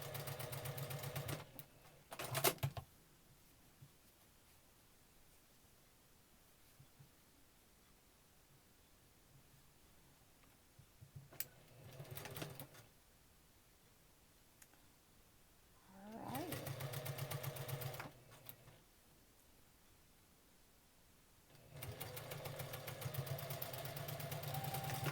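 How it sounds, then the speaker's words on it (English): A sewing machine stitching rows of a quilt block together runs in four bursts, short ones then two longer steady whirring runs, close and fairly quiet, with quiet pauses and faint handling between. "we are ready to sew our rows into our block"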